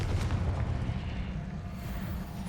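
A Confringo spell in Hogwarts Legacy detonates as a continuous deep rumbling blast, heavy and booming throughout with a slight fade toward the end.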